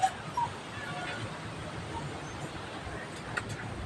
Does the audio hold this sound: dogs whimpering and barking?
yes